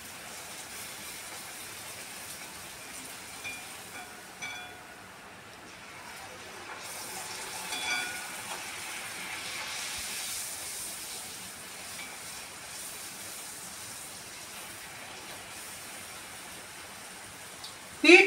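Puris, fried wheat breads, cooking in hot oil in a home kitchen: a soft, continuous bubbling sizzle, fairly faint and even, swelling slightly midway, with no talk.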